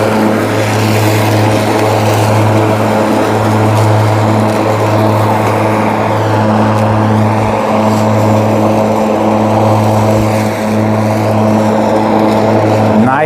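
An EGO 30-inch self-propelled electric lawn mower (LM2130SP, 1300 Series) with the bag attachment fitted runs steadily and loudly throughout, giving a continuous motor and blade hum with a strong low tone and no break.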